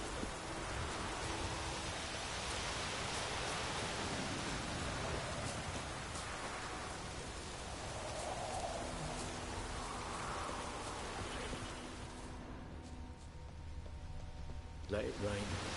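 Rain falling in the game Witcher 3, a steady hiss of rainfall with soft patter running continuously beneath a voice talking, fading slightly toward the end.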